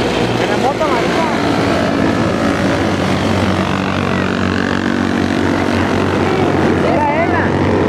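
Motorcycles pass on a group ride in Ensenada in 2013, one of them yellow, making a loud, steady engine drone that fills the whole stretch while people talk over it.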